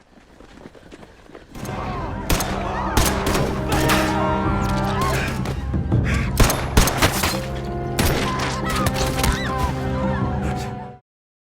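Gunfire in a crime-thriller film scene with a gangster shooting at three women, a dense, loud barrage of overlapping shots and thuds that runs almost nonstop until it cuts off abruptly.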